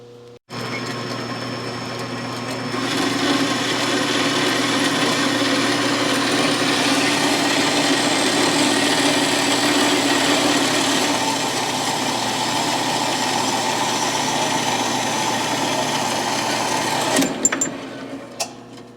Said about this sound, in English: So let me get this set up over in the bandsaw and let's cut it off.